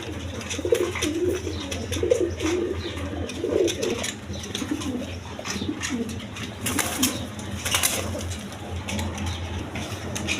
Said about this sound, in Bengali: এইখানে এক পেয়ার টেরি কবুতর আছে, পাকিস্তানি টেরি কবুতর